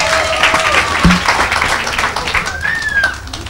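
A church congregation breaks into loud, sustained applause and cheering that fills the whole stretch, with a brief low thump near the start and scattered voices and whistles mixed into the crowd noise.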